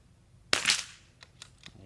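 A single sharp, loud crack from a .22 LR rifle with a CRV barrel firing precision ammunition rings out alone, followed by a few faint, brief ticks.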